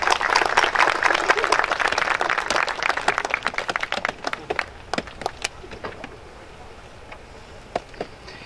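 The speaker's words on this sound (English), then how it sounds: "let's give the students a round of applause" A large audience at a university fall convocation applauds the students: thick, loud clapping at first that thins over several seconds into scattered individual claps before fading out.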